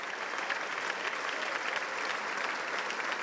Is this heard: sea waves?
no